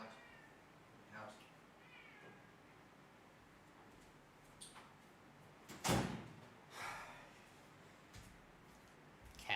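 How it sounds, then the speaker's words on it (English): Two house cats meow indoors in several separate, fairly close calls spread over the moment, with a door-like thud partway through and faint human speech in the background. "Cats."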